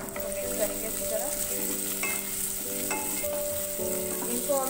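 Garlic, ginger, almonds and cashews fry over high flame, giving a close, even sizzle with short metallic clinks and scrapes as they are stirred.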